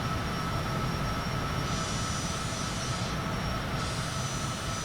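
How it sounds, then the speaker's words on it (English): A Cessna Citation jet takes off in Microsoft Flight Simulator, its engines giving a steady, loud, broadband roar with a constant high whine throughout and no voices. "that's a nice and smooth takeoff"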